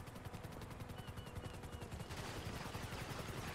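Rapid helicopter-mounted gunfire in a video game, a dense continuous burst of shots that grows louder and harsher partway through, with engine rumble underneath.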